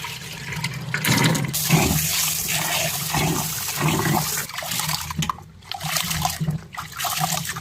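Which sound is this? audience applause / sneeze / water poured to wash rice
water poured to wash rice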